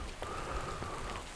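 Steady rain falls outdoors at a chapel in Petworth in December, a close, continuous patter with scattered louder drops.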